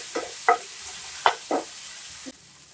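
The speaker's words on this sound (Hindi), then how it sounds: "अब इसे हम 1 मिनट के लिए पकाएंगे।" Masala cooking with tomato sauce in a pan for a Frankie roll filling, a low background sizzle punctuated by several short spoon scrapes and stirs, with no speech.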